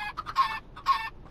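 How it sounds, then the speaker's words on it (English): A Minecraft chicken clucks in a few quick, close bursts, bright and clear with short pauses between calls and no talk. "Alright, spawn a chicken."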